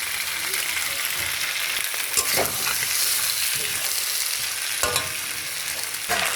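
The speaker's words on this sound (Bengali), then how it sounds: "পেঁয়াজটা দিয়ে দিলাম," Onion fries in hot oil in a pan, giving a continuous close sizzle with a few sharp clinks and scrapes from stirring.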